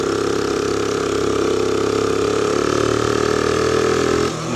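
A motorcycle with an aftermarket air intake that is bogging runs at a steady, loud, close drone, its even engine note holding for several seconds before dropping off sharply at the end.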